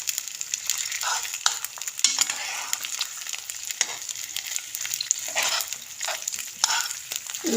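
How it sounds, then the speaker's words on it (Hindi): Eggs frying on a paratha in a pan over a medium flame, a steady close crackling sizzle with scattered pops and occasional spatula scrapes, continuous and without talk. "इनको अच्छी तरह फ्राई कर लेना है।"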